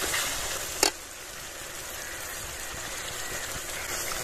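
Chicken and spices frying in a pan give off a steady, uniform hiss at moderate level, with one brief sharp tick near the start and nothing else over it.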